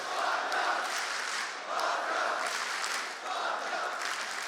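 Crowd cheering and applauding in an arena at an IEM Katowice 2017 CS:GO esports quarterfinal, Astralis vs. Na'Vi, a steady dense roar that swells and dips in waves across the whole stretch.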